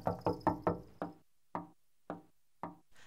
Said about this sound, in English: How long have they been knocking?